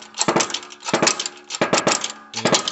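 A press forces a rear wheel bearing from a 2004 Subaru STi into place, producing four close, loud bursts of creaking, grinding metal strain in an even rhythm.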